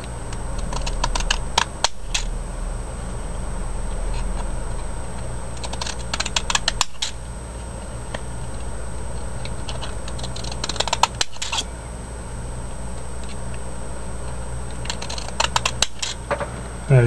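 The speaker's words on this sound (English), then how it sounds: "So then we'll take our other big square, put a negative cut all around it." A Fiskars paper edger cuts a sunflower pattern around the edges of a paper square, making rapid crisp snipping bursts repeated in clusters with brief pauses and faint handling noise between.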